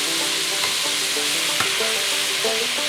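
Potatoes deep-frying as homemade French fries sizzle and crackle steadily in hot oil, a dense continuous hiss with a few faint clinks, close and with no voices.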